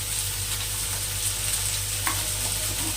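Vegetables stir-frying in a pan for chow Manchurian, a steady broadband sizzle with faint scraping stirs, close and continuous with no talk.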